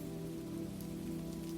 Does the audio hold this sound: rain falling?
yes